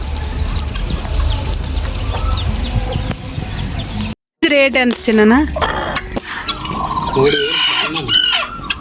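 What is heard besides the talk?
chickens clucking in a village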